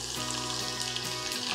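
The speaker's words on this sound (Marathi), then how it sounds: "आणि लसूण हलकासा परतून घेऊया" Garlic sizzles in hot oil with mustard seeds and cumin for a tempering, a close, steady frying hiss without any pause.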